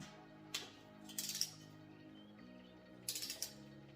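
A torque wrench tightens the cylinder head nuts on a 40 hp VW engine, giving faint close ratcheting clicks in two short bursts over a quiet background.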